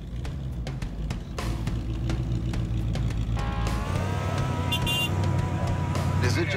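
An old truck being driven with an exhaust leak, its engine droning steadily from inside the cab, with some clicking and rattling, and people talking over it.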